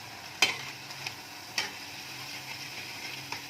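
Bread shallow-fried in oil in a pan, a soft steady sizzle with a few sharp utensil clicks and taps on the pan.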